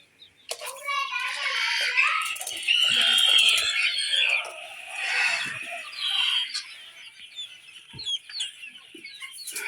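Native village chickens about sixty days old cluck and squawk nearby in irregular bursts, fairly loud and close, with a person's voice mixed in at times.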